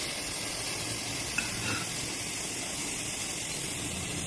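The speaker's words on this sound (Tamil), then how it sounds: "இப்ப நான் பீட்ரூட்டை போடுறேன்" Grated beetroot tipped into a hot pan for biryani gives a steady, broadband sizzling hiss that holds evenly at moderate level throughout, with no voices over it.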